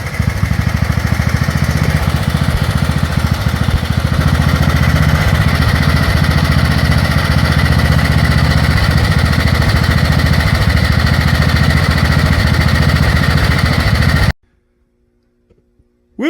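A 1970 John Deere 110 garden tractor, revived after sitting 20 years, runs outside with a loud, steady, rapid engine chatter close to the microphone, then cuts off abruptly near the end, leaving near silence.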